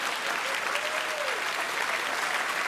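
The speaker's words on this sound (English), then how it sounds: "Why are you applauding?" Steady, dense audience applause, a broad continuous wash of clapping from a crowd, with a faint voice briefly audible underneath.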